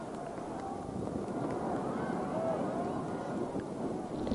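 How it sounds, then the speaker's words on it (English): Steady, broadband wind roar of 30 to 35 mph gusts buffets the microphone throughout a high school football game, a constant rushing gust noise with no breaks and no voices. "Big 30-mile-an-hour wind gusts, 35-mile-an-hour wind gusts, blowing kind of cross field"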